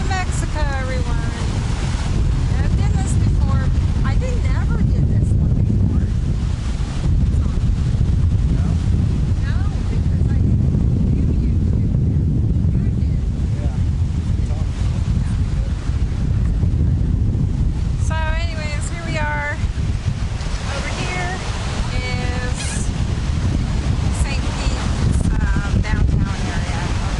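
Ocean waves and strong wind at the Gulf of Mexico shoreline, with constant heavy wind buffeting the microphone over a low surf roar, while people talk intermittently.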